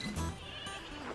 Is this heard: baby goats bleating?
yes